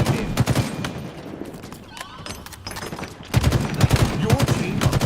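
Rapid gunfire from the M41 Spanker weapon in a video game, with bursts of shots in the first second and again from about three seconds on, mixed with game sounds and voices.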